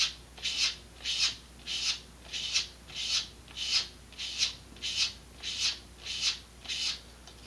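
Sandpaper rubbed against a vintage Estes Sentinel model rocket part in steady back-and-forth passes, about eleven even, raspy strokes in a regular rhythm, close and clear with no talking.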